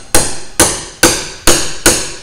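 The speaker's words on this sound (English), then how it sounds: "Hit it with your hammer, then you can pry it up." A hammer strikes a steel cat's paw nail puller five times in a steady rhythm, each blow a loud, close metallic clank that rings and decays before the next, with no talking.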